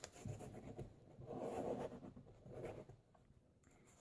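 Paper book pages being folded by hand for a candle craft, soft close rustling and creasing with brief scraping strokes, quiet and continuous.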